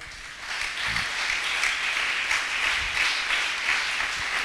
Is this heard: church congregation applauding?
yes